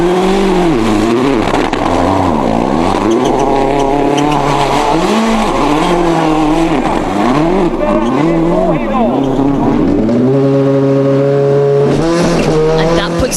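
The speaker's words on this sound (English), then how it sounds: "And here is Henning Solberg in the Peugeot 307 of the OMV Norway team." Henning Solberg's Peugeot 307 rally car of the OMV Norway team at Rally Sweden 2006, its engine loud and close, revs rising and falling through gear changes before settling into a steady high drone, with commentary talk over it.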